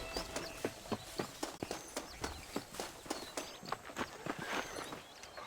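Horse hooves clip-clop at a steady walking rhythm in the video game Red Dead Redemption, distinct, evenly spaced hoof strikes at moderate volume with no talking.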